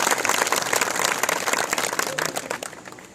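Loud, continuous audience applause welcoming J. P. Nadda at a farmers' gathering in Hanumangarh, dense clapping sustained throughout with crowd noise and no speech.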